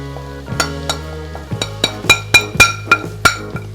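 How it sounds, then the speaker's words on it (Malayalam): Spices are stirred into eggplant frying in a pan, the utensil knocking and scraping the pan in a run of sharp, close strikes that speed up toward the end. "ഇനി നന്നായിട്ട് മിക്സ് ചെയ്യുക."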